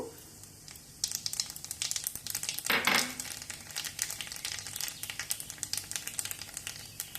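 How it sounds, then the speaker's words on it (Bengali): Nigella seeds hit hot mustard oil in a pan and burst into a loud crackling sizzle, with a sharp hissing surge early on and then rapid popping spatter that continues up close, no voices present. "গরম হলে কালো জিরের ফোড়নটা দিয়ে দেব"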